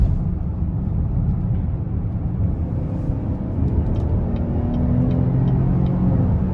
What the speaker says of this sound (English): We're gonna go ahead and merge on the interstate,